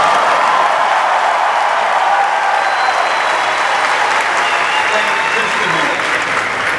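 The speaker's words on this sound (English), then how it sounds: "let's have one more big round of applause for our winner" Sustained, loud applause from a large audience at a Disney D23 Expo Parks & Resorts presentation, honoring a winner; dense even clapping fills the whole stretch with crowd noise and voices mixed in.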